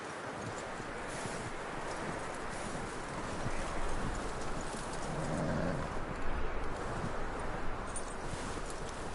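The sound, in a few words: horse hooves clip-clopping in a PS4 video game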